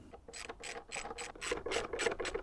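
A ratchet wrench loosening bolts on the MAF sensor housing of an Audi TTS air filter box, giving a steady series of close, rhythmic clicking pawl strokes, soft and fairly quiet.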